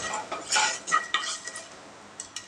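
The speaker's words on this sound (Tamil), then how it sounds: "உளுத்தம்பருப்பு கடலைப்பருப்பு சீரகம் இது எல்லாத்தையும் சேர்த்திக்கலாங்க சேர்த்து இதை நல்லா வறுத்து விட்டுறலாங்க" Urad dal, chana dal and cumin roast in oil in a pan while a metal spoon scrapes and clinks against it in a few quick, close stirs, with a faint sizzle underneath.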